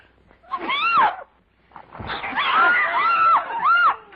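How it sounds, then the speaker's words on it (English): Woman from an old horror film letting out two loud, wavering high-pitched screams, a short one followed by a longer drawn-out scream after a brief pause. "Here are a couple examples of her screams that I was able to find."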